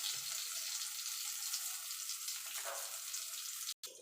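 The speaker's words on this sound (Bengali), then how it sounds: "বেগুনটা লাল লাল করে ভেজে তুলে নেব।" Eggplant frying in oil, a steady hissing sizzle held at a moderate level, with a brief dropout near the end, no voices.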